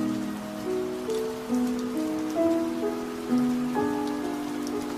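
Heavy rain drums against a window as a soft, continuous patter beneath a gentle melodic music bed, quiet and even throughout, with no voices.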